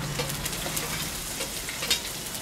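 Cumin, fennel and small shallots frying in hot oil for goat-intestine curry, a continuous close sizzle with soft crackles and a few faint stirring scrapes.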